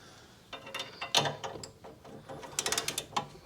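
A ratchet clicks in short bursts as it tightens anti-roll bar drop link nuts on a 2014 Mazda CX-5 2.2 diesel, with close, crisp ratcheting clatter and brief pauses between strokes.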